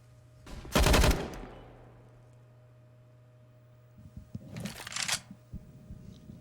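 Gunfire in a Counter-Strike match on the Train map: two short bursts of shots, the first loud and sharp near the start, the second quieter and more scattered later, with low background hum between.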